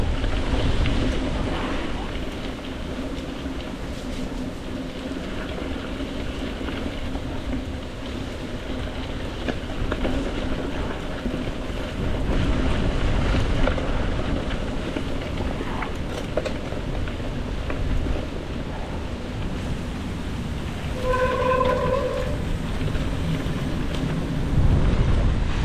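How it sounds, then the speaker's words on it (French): Steady broadband roar of a heavy night-time rain shower with gusting wind buffeting the microphone during a bike ride near Flines-lez-Raches, France, continuous and loud throughout, with a brief faint tonal sound near the end. "Là c'est une vraie averse."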